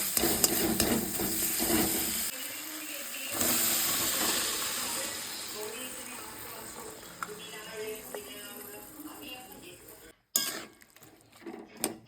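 Ghugni with peas and potatoes cooks in a pan, giving a steady close hiss of steam and sizzle, with occasional spoon stirs and scrapes, then near silence after a sudden break near the end.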